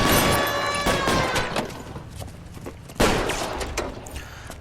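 Loud bursts of gunfire from a shootout in the video game L.A. Noire, two heavy volleys roughly three seconds apart, each trailing off into echoing reverberation and scattered shots.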